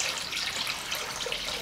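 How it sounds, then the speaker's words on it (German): Tap water runs steadily into a container being filled to submerge a bicycle inner tube for puncture repair, a soft, even hiss of flowing water, fairly quiet and uninterrupted, with no talk. "Und was ich natürlich machen muss, ist Wasser in den Behälter rein"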